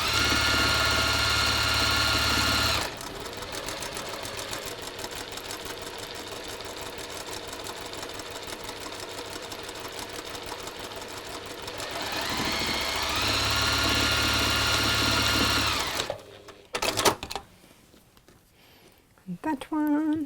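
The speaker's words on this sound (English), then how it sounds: "let's now sew around these." Sewing machine stitching around a stuffed fabric piece, running in long continuous whirring bursts with brief pauses between, followed by handling noise and someone talking near the end.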